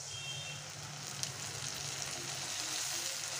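Prepared masala sizzles steadily in a pan of browned onions for rajma curry, a soft, continuous frying hiss with no talk.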